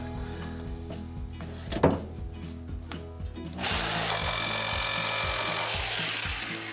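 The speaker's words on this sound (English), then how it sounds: "the screw is all rusted, so we're just gonna have to cut it out." A power tool bites into a rusted screw inside a camper van under renovation. Several short tool bursts come first, then a steady, loud cutting whine runs to the end.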